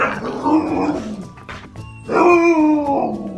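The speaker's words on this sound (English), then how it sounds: "He's the loudest dog. He howls all day long." A dog howls in two long, drawn-out wails with wavering pitch, close and fairly loud.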